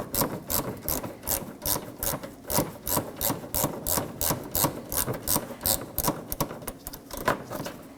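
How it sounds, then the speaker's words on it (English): A ratchet wrench backs a 10mm bolt out of the fender area of a 2015-2023 Nissan Maxima, giving a steady run of rapid, close clicks in an even rhythm with no talking. "Now let's remove that bolt."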